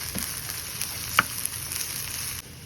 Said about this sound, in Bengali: এখানে আমি পেঁয়াজ আর কাঁচামরিচ একটু কষে নিচ্ছি